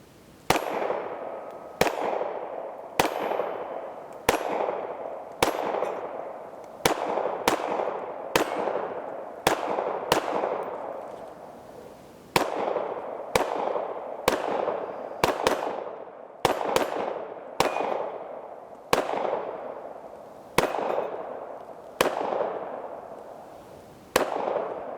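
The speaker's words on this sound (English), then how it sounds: "30 rounds is a lot of fun, and this is an accurate little firearm" KelTec PMR30 pistol fired outdoors in a steady string of sharp, loud single shots, about twenty spaced a second or so apart, each with a short ringing decay and no talking.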